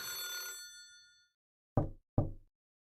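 A telephone bell finishes a ringing burst that decays away, then after a pause two short, sharp rings sound close by in a quiet room.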